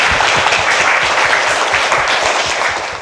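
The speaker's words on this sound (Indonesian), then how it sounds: "Oleh karena itu, aplaus untuk kita semua anak-anak." Classroom of children applauding during a biology lesson, a dense burst of many hands clapping loudly and continuously, fading slightly at the end.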